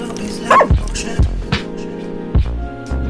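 Several loud, sharp barks from a small dog in the Little Orpheus video game, spaced irregularly over a low background hum.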